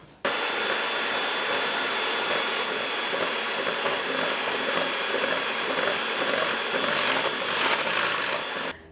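An electric mixer whirs loudly and continuously as it beats egg whites, salt and egg white powder toward stiff peaks, a close, steady high-pitched drone starting abruptly and stopping near the end.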